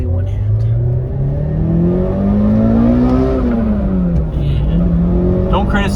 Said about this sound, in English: I'll do the first gear pull here.